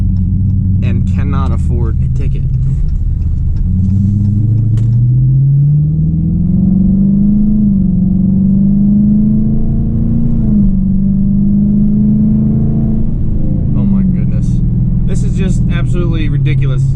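A loud Dodge Challenger R/T fitted with a throttle controller accelerates, its deep engine rumble climbing steadily in pitch, holding, then easing off, heard from inside the car with a voice talking at the start and end.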